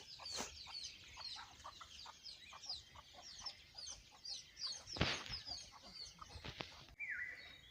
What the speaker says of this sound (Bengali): আমি আমার মুরগিগুলোকে খাবার খাইতেছি